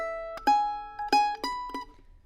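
Mandolin picking a short phrase of the fiddle tune Tobacco Patch, a handful of bright plucked notes with ringing decay, close and solo in a quiet room.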